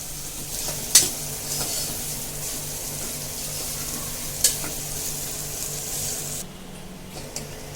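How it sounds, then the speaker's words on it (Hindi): Onions frying in hot oil with cumin for an arbi masala dish, a steady broad sizzle running beneath two sharp utensil clicks, then quieter near the end, with no talking. "तो पहले प्याज को हम हल्का ब्राउन होने तक भून लेते हैं।"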